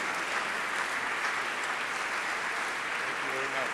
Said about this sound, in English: please join me in applauding him.